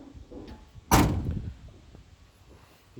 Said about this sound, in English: Oops, door didn't shut.